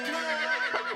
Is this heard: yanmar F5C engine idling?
no